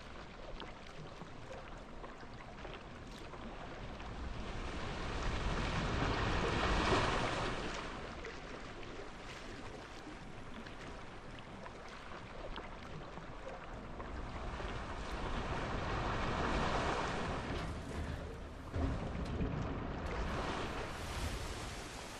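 Water cascading down onto a splash ride at a Wild West themed park, a steady loud rushing wash with no voices, swelling around the middle and again toward the end.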